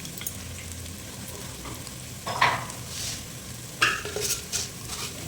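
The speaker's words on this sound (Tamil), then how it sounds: "கடுகு போட்டுக்கிறேன்." Mustard seeds sizzle and crackle in hot oil in a pan for Ayila fish curry, a steady soft frying hiss broken by a few brief clinks of a utensil against the pan, with no talking.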